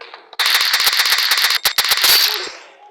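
Rapid automatic gunfire from the Free Fire battle game, a loud dense burst of shots lasting over two seconds with sharp individual cracks, fading out at the end; no speech.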